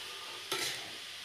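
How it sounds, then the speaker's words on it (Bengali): Ash gourd being stirred into spices in a frying pan, one quick scraping stir over a steady sizzle, close and alone. "সমস্ত চাল কুমড়োটাকে দিয়ে এবার মশলার সঙ্গে ভালো করে মিশিয়ে নেব"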